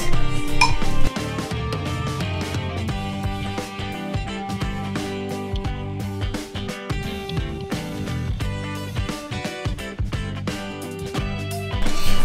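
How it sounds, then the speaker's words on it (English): Guacamole gets stirred in a bowl, a spoon scraping and clinking against the sides in a busy, continuous rhythm of close, fairly loud knocks and scrapes, without any talk. "Finally, you have to mix."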